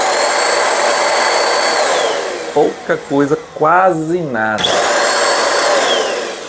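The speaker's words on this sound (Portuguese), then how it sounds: "Ligando aqui o aspirador" A vacuum cleaner runs on a Bluetti AC60P portable power station, giving a loud, steady whine that stays level while someone speaks briefly over it.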